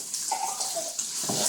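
Water pours from a can into a cooking pot of cream of mushroom soup for baked chicken, a brief splashing rush that runs steadily for about a second and a half.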